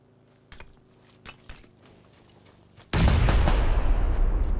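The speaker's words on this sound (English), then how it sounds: "I'm getting shot from behind?" Gunfire in the battle royale game PUBG on Xbox: a few scattered distant shots and metallic clinks, then a sudden loud, dense burst of rapid shots and noise.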